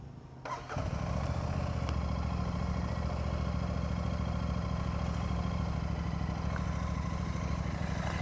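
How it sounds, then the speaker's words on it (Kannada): A motorcycle engine starts after a short sputter and settles into a steady, close, loud idle, loaded for a road trip toward Leh in Ladakh. "ಸ್ಟಾರ್ಟ್ ಮಾಡೋದ ಬೈಕು."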